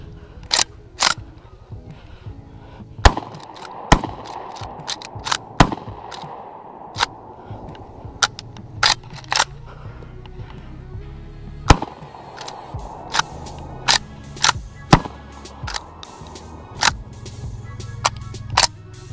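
A lever-action shotgun, the PW87, fired repeatedly outdoors, sharp loud reports scattered irregularly through the stretch with quieter mechanical clacks of the action between shots, no talking.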